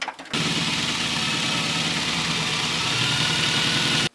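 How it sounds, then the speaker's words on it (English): A drill bores bolt holes for a HardDog Hardcore rollbar being fitted to a 1990-2005 NA/NB Mazda Miata. It makes one loud, steady, continuous motor whir lasting about four seconds, with no talk over it. "drilling some bolts from the top"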